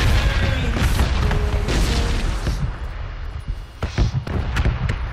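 Explosions in a video game bombing zone, a run of heavy rumbling booms and thuds, loud and close, with sharper impacts toward the end.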